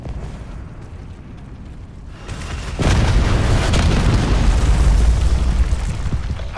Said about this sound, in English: Enemy hellstorm detected.